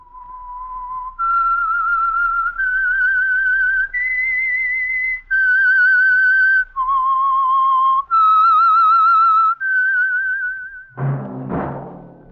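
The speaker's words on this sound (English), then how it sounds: "That whistle is your signal for the Signal Oil program, The Whistler." A clear, solo whistled melody of long sustained notes stepping up and down, ending with a short rising flourish; the theme of a 1948 radio drama.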